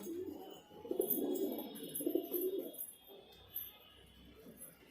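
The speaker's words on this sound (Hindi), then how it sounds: "बड़े पल्लों का कबूतर है।" A large-winged highflyer pigeon coos in a loft, with several soft, throaty cooing phrases up close and faint chirps and background noise in between.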